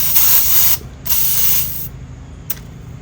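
A digital tire pressure gauge is pressed onto a travel trailer tire valve, letting out two loud bursts of air hiss, each roughly a second long, with a faint short click at the end.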